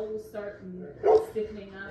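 A large, deep-chested dog gives a short bark amid a pack of dogs, a single close yip-like burst in the middle with quieter whimpers and voices talking around it.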